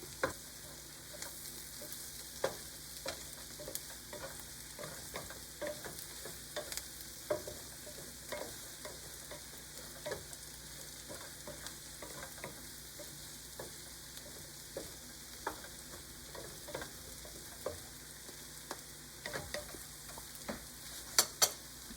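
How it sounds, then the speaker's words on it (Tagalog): Sautéed mushrooms frying in a pan, a soft continuous sizzle broken by frequent quick scrapes and taps of a spatula as they are stirred, close and quiet with no voices. "haluin ko po para yung lasa ay kumapit po sa lahat ng mushroom"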